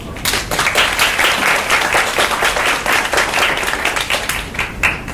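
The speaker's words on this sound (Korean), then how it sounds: "큰 박수로 맞아주시기 바랍니다" An audience at a conference session bursts into loud, brisk applause to welcome the session moderator, dense clapping holding steady for around five seconds with no voices over it.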